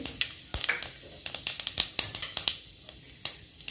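Curry leaves and onion fry in hot oil with mustard seeds, sesame and whole cumin, giving a close, bright sizzle broken by sharp popping crackles and spits.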